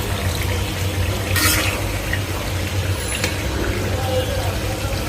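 Meat being stir-fried in a pan for kosha sizzles with a continuous, dense hiss that stays loud and even, with a brief louder burst partway through and no talk.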